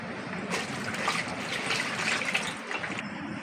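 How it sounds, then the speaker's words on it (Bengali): Water poured out of a bowl while preparing a flour-based snack at home, a steady close splashing trickle lasting about three seconds, then tapering off, with no talking. "এইভাবেই আমি জলটা এবার ফেলে দেব।"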